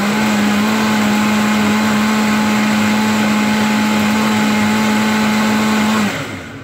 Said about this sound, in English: Let me turn on the blender first.